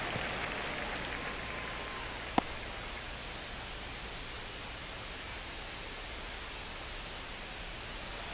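Steady broadband stadium crowd murmur in MLB The Show during a one-run ninth inning, Red Sox versus Dodgers, a continuous even wash with one brief sharp click partway through.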